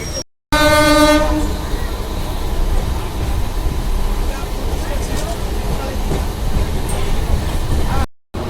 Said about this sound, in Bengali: এই মাত্র জাস্ট হাওড়া স্টেশনের ট্রেন পৌঁছলো